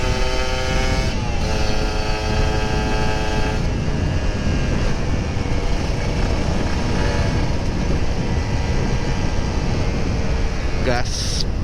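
Kawasaki Ninja RR 150 motorcycle speeding down an empty road on a morning ride, its engine droning loud and steady throughout with strong wind rush and a brief rising whine near the end.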